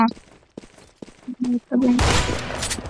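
Rapid AK-47 bursts in a video game, a few short pops and tonal blips leading into a dense, loud fusillade of gunfire in the second half, with a voice briefly present.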